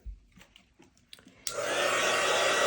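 A few quiet taps and clicks, then a dryer switches on halfway through and blows a loud, steady whoosh to dry glue on a tumbler.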